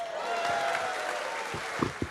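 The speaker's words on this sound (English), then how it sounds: "How about a round of applause for Minnesota Hospital" Audience applause at a live WCCO radio show celebration, a dense, steady wash of clapping that carries on evenly, with a few louder individual claps standing out near the end.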